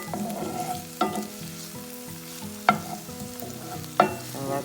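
A seitan mixture with wine and seasoning is stirred in a pan, making soft scraping, a low simmering bubble and three or four sharp knocks of a spoon against the pan at irregular intervals; no speech.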